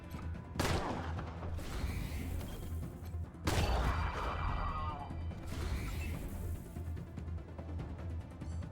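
Pistol gunfire in the turn-based game Wasteland 3: two sharp, loud shots a few seconds apart, each followed by a crashing, ringing tail, with no voices.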